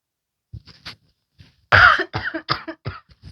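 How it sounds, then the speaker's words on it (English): Coughing from a person in a yoga session, a few quiet throat sounds first, then a loud burst of coughs and several shorter follow-up coughs, close and alone with no talk. "Still trying to figure out how to cough and do yoga at the same time."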